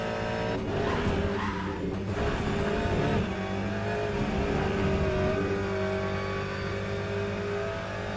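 Race car engine in the Le Mans Ultimate sim racing game, a loud sustained engine drone with shifting pitch, mixed with tire squeal and skidding as the car spins, steady and close throughout.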